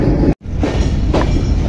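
The Simanta Express rolls past Mobarakganj railway station with a loud, heavy, continuous rumble of wheels and carriages, broken by a brief sharp dropout near the start.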